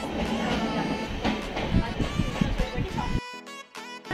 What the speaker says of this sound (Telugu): సంజీవయ్య పార్క్ దగ్గర ఆగిపోయింది గైస్ ట్రైన్.